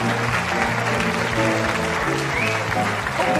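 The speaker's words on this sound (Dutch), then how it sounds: "hier in de studio graag een hartelijk applaus voor de eerste kandidaten" TV studio audience applauding the first contestants on a Dutch comedy show, a continuous wash of many hands clapping at even loudness with some music or tones underneath.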